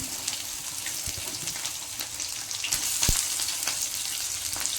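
Garlic paste and onions fry in hot oil for gobi fried rice, an even crackling sizzle with scattered spatula knocks against the pan and a louder scrape near the middle, no voices.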